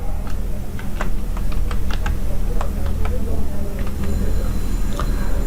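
A word is typed on a computer keyboard in a string of quick, irregular, close-up key clicks over a low background hum.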